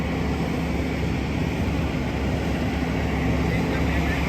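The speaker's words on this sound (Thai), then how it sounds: "เพราะว่าตอนนี้เร่งเครื่องเยอะเลย" A vehicle engine held at high revs, a steady loud droning roar with a constant low hum and no clear gear changes, running throughout.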